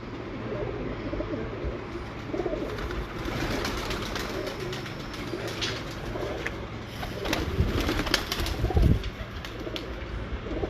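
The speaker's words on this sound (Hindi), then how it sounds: "देखिए जुगनू कबूतर है जी" Jugnu breed pigeons cooing in low, throaty murmurs, several birds close by, steady with louder coos near the end.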